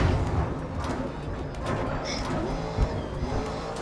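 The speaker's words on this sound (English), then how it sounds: "I swear the sound of my car changed." Race car engine in the GRID Legends video game, a loud continuous motor roar with tire skids and squeal, held steady throughout with brief bumps.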